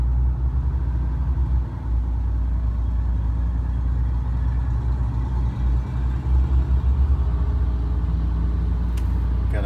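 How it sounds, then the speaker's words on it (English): A bus engine rumbles steadily as the bus pulls away, a deep continuous drone close by with a slight rise and fall in level, and no voices. "Bus is leaving."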